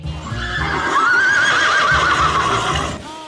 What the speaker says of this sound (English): Horse. Rabbit.